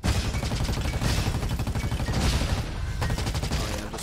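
Rapid rifle fire in a roguelite shooter game, a dense, loud stream of repeated shots in quick succession, pausing briefly before resuming.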